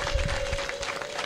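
A crowd at an outdoor public gathering in Rwanda breaks into applause and ululation, a dense, loud wash of clapping with a steady high trilling tone running through it and no talk over it.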